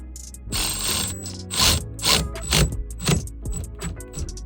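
A ratchet wrench clicks in short bursts while tightening a bolt on the steering column U-joint of a VW Mk2 Scirocco 16v. Several close, metallic ratcheting pulls are separated by brief pauses, with no speech.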